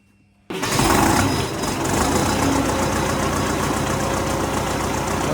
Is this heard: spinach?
no